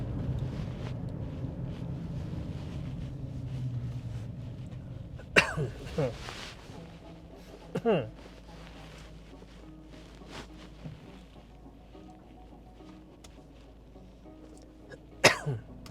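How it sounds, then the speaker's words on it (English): A few sharp coughs break through steady rumbling road and wind noise inside a moving car, spaced apart with quieter stretches between them. "Coughing."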